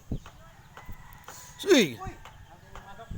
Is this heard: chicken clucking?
yes